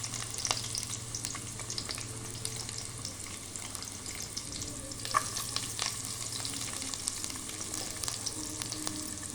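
Onion, green chili and curry leaves fry in a few spoons of hot oil for a village-style brinjal and dried fish tamarind stew, giving a steady close sizzle with occasional stirring scrapes and light crackles throughout.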